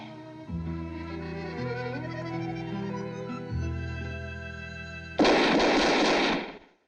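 A single loud gunshot-like burst from a 1964 film soundtrack cuts in over sustained orchestral music, a sharp broadband blast that rings out for over a second before ending abruptly.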